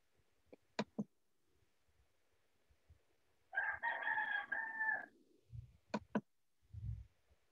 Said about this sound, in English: did you just hear a rooster in the background?